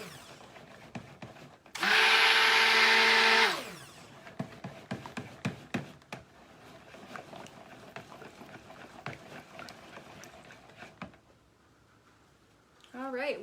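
A stick blender whirs loudly for about two seconds while mixing soap batter, then cuts off, followed by clattering, tapping and handling sounds of the batter being stirred.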